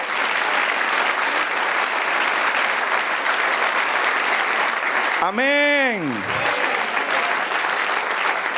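A church congregation applauds in a steady, dense wash of clapping that runs the whole time, with a short sliding tone rising and falling near the middle.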